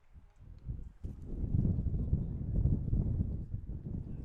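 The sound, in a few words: gust of wind hitting the microphone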